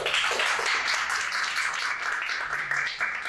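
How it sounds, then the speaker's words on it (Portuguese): An audience at a December 2023 plenary session applauds steadily for a few seconds, a dense wash of clapping heard from within the room without any speech. "Obrigado pelas palmas."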